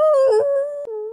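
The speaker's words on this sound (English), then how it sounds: "Should we all howl at the same time? Because we're young wolves now." A drawn-out howl from a young wolf in the Destiny video game, loud and close, a single wavering cry that dips, breaks briefly, then holds on a steady lower tone.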